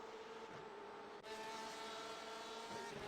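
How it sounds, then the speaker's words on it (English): A steady whining engine drone with a sustained high tone, a race car in the iRacing video game at Watkins Glen revving continuously, moderately loud with no voices. "I can hear a car."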